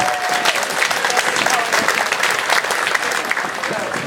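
An outdoor audience at a school pops picnic in the park claps steadily for the jazz band and combo, a dense sustained round of applause with a voice speaking over it.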